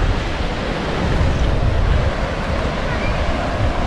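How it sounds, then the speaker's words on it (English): Sea waves wash against the shore at Mappleton on the East Riding of Yorkshire coast, a steady, broad rush of surf with some wind noise on the microphone and no talking. "appreciate the sound of the waves lapping against the shore"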